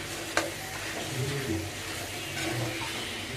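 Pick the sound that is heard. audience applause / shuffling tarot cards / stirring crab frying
stirring crab frying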